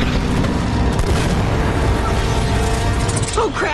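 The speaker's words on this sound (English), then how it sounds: "What the hell was that? An anti-aircraft fire?" Anti-aircraft fire bursts around a plane in Uncharted: Drake's Fortune, a dense, continuous roar of booms and rattling mechanical noise, loud and close throughout, with a voice briefly heard near the end.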